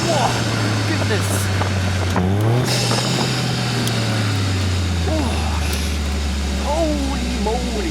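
A Caterham 170S with an 85 hp engine accelerates hard on a country road, its near, loud engine note rising through gears with shifts and pitch sweeps, while an excited driver talks over it.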